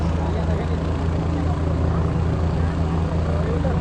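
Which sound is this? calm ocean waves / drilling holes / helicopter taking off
helicopter taking off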